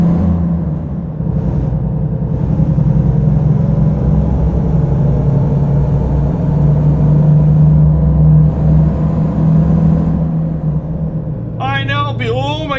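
A Volvo truck engine in American Truck Simulator drones steadily and loudly, its low rumble reverberating throughout, with a brief high chirping burst near the end.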